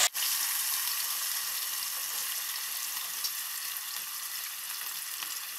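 Potatoes frying in two tablespoons of oil in a pan, a dense, even hiss that starts sharply and holds steady throughout at close range, with no voices.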